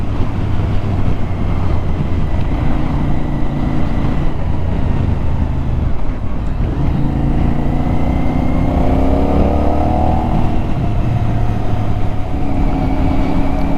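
A CFMoto 450 NK motorcycle engine under way gives a loud, continuous drone mixed with rushing wind. Near the end the pitch rises as the throttle rolls on.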